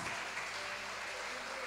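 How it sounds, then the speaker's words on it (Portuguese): A church congregation applauds in praise, a dense, steady wash of many hands clapping together throughout, with faint voices mixed underneath. "Se você crê, aplauda o Senhor."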